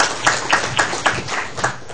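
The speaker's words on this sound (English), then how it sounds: "So I want you to keep clapping it, as you did before." Audience in a lecture room clapping in a steady repeated rhythm, about eight claps over two seconds, moderately loud with room noise and no talk.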